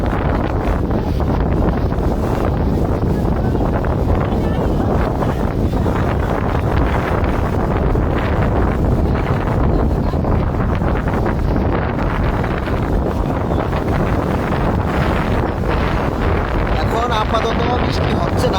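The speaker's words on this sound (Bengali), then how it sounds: "বাতাস আগে যে গতি ছিল তার চেয়ে গতি একটু বেশি" Strong cyclone wind roars continuously and loudly, buffeting the microphone with a dense low rumble and no letup, with a voice faintly mixed in.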